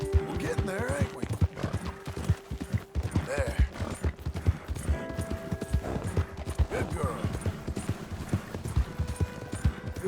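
Steady, rhythmic clip-clop of horse hooves close by in Red Dead Redemption 2, with a brief whinny, while a person speaks softly over the footfalls.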